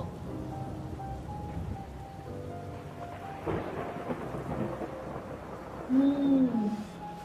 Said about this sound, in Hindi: बारिश भी कितनी तेज हो रही है।